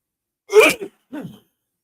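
One sharp, close sneeze bursts out, followed by a softer sniff or second exhale, in an otherwise silent room.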